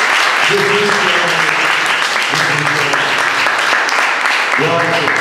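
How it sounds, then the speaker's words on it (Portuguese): Congregation clapping in a church service in honour of Jesus, a steady dense wash of applause throughout, with a voice briefly speaking over it at times. "Dá uma salva de palmas para Jesus."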